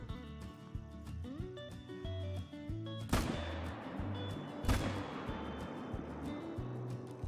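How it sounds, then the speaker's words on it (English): Two loud rifle shots crack about a second and a half apart while hunting deer in the video game Call of the Wild, each with a long rolling echo. Both ring out over a steady looping musical tone. "We will probably shoot these 2 back ones."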